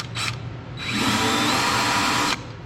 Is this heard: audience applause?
no